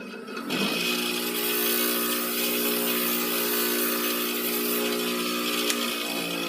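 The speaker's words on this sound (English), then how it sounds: "But we'll just take them to our grinder." A bench grinder grinds down the base of a dashboard light bulb, a steady loud whine that spins up after a brief start and holds unbroken to the end, with no talk.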